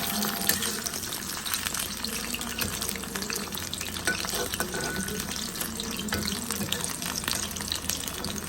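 Fish koftas made from chitol fish sizzle steadily in hot oil in a wok, a dense continuous hiss with faint clinks and some background voice underneath.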